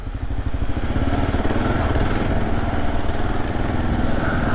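Single-cylinder engine of a 2024 Kawasaki KLR 650 motorcycle running steadily as it comes down in revs, close and fairly loud with a throbbing, slightly clattery tone.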